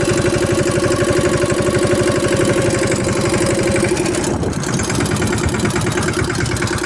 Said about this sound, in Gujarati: આપણે ટ્રેક્ટરને થોડુંક આગળ લઈ લઈએ